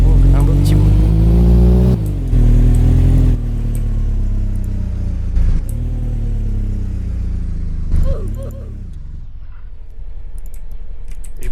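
A Peugeot 205 fitted with a swapped V6 engine revs loudly up close, its deep engine drone rising and falling through several throttle blips before settling to a lower idle.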